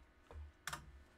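Two quick keystrokes on a computer keyboard while entering code, a soft tap followed by a sharper, brighter click, close and isolated against quiet room tone.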